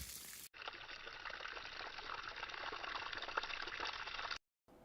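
Water runs steadily from a garden hose outdoors at a rural mobile home, a continuous close hiss and trickle that starts abruptly and stops just before the end.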